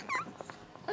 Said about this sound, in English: Is that just a dog?